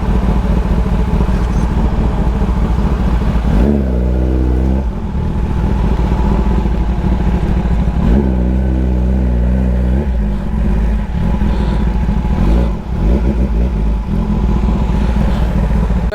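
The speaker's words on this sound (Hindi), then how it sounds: "चारों तरफ देखोगे तो बाइक ही बाइक है" Many motorcycles idle and rev together at a busy group-ride meeting point for an Independence Day ride, a dense continuous engine roar with repeated throttle swells, close and loud throughout.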